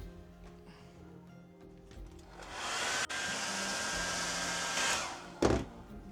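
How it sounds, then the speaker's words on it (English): Hairdryer heating an e-bike battery pack, switched on with a quiet buildup, then a steady loud whooshing blast for about two seconds before cutting off with a short clatter. "I'll go and get the hairdryer to speed things up."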